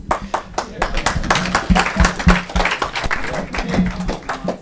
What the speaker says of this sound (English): the applause shows that the sentiment is shared